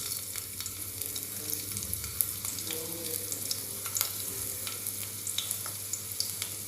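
Smashed garlic frying in hot oil, a steady close sizzle and crackle with small pops, with occasional stirring and no talk.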